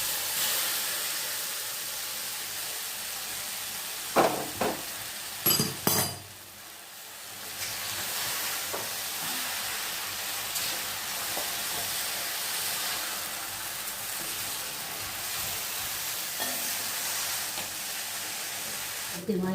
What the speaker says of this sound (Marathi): याच्यामध्ये ह्या शेवाया टाकून देऊ